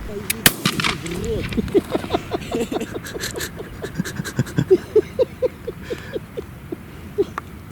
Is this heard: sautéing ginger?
no